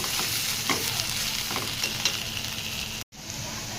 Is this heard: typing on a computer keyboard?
no